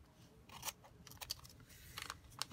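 Scissors trimming a page from a magazine, heard as a few soft, quick snips and crunches spaced across a quiet stretch, close by and faint.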